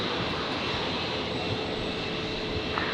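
Boeing 737 airliner arriving from Sydney at Brisbane airport, a steady broadband jet roar held at even loudness throughout, heard from a distance with no voices.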